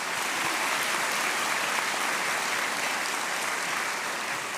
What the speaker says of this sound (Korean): 귀한 분들께 우리 감사의 격려의 박수를 하겠습니다.